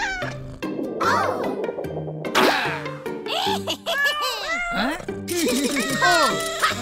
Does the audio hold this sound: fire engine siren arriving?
no